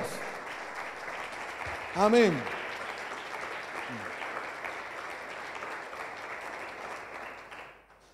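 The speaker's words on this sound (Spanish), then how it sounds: "Dale ese aplauso al Señor" A church congregation applauds in a steady, moderate wash of clapping that runs the whole time and fades at the end, with a brief spoken interjection and a rising vocal sound over it early on.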